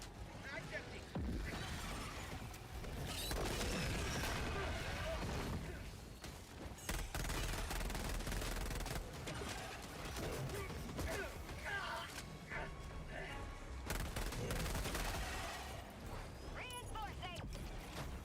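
Rapid automatic gunfire and explosions from the shooter game Helldivers 2 fill the mix in sustained loud bursts, with clanking mechanisms and a voice talking over the action.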